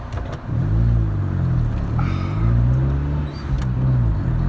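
A manual-transmission car climbing a very steep hill, engine droning loud and close with rising and falling revs around gear changes, no talk over it.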